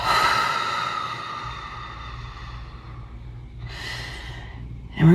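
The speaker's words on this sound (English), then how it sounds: "We're gonna take a big cleansing breath." A single big, slow cleansing breath, drawn in and released steadily and close, ending in a sharper exhale.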